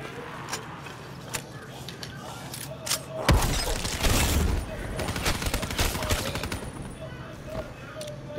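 An RPK light machine gun in Black Ops 3 Zombies opens up in a sustained, dense burst of automatic fire after a few scattered earlier shots, loud and continuous to the end.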